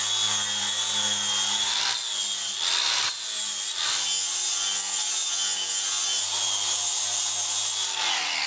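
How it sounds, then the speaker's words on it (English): Steady, continuous abrasive rubbing of a sanding disc on glued wooden boards by a stone house ledge, loud and close with brief dips in pressure but no pauses, a constant gritty hiss over a low motor hum. "the sanding disc that I used on the large ledge"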